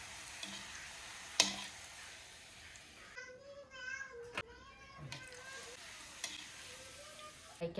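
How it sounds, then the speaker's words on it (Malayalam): Papadums frying in a pan make a faint sizzle broken by light crackles and a sharp pop or two, with a soft voice now and then. "പപ്പടം പൊരിക്കാൻ പോവാ കേട്ടോ"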